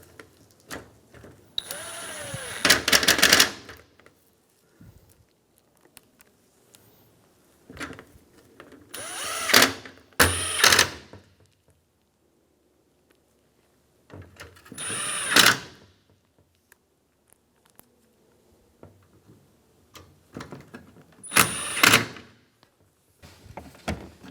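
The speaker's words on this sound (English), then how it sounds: "Install all of the screws." Power drill driving screws into upper grille trim on a 2013-2017 Honda Accord, four separate short whirring bursts spaced several seconds apart, close and moderately loud with quiet gaps between them.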